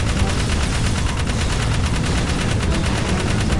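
Rapid, continuous gunfire from the video game Jak 3, a dense unbroken rattle of automatic shots, loud and close throughout.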